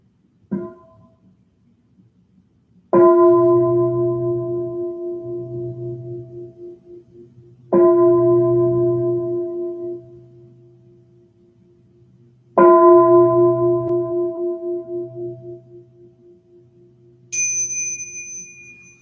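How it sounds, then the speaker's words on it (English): Three meditation bells struck in turn, each a clear ringing tone that slowly decays before the next, with a brighter, higher chime at the very end, set against a quiet room hum. "let's start with 3 bells"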